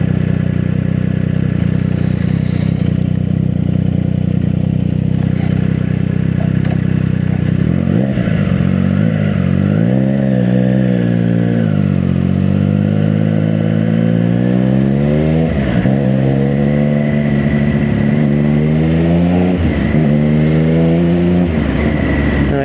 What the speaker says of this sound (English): It does have a non-standard exhaust on this bike, so it's making it sound really, really lovely